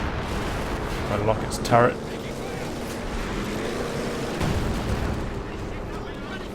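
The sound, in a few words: tank cannon fire in Company of Heroes 2 video game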